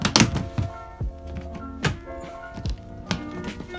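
A scout's personal gearbox storage box being opened for jamboree packing: a series of hollow plastic thunks and taps, a few close knocks at irregular intervals, with no talking.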